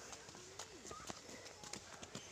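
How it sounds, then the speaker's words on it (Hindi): A horse's hooves clip-clop along a path by water canals in Himachal, a steady run of light, close taps coming from behind while voices talk over them. "आया पीछे से घोड़ा"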